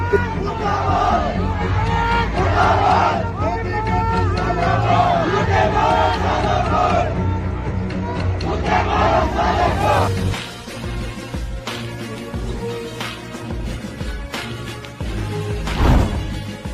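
A protest crowd chants murdabad slogans in unison, loud rhythmic massed voices rising and falling for about ten seconds before giving way to scattered crowd babble and a brief louder shout near the end.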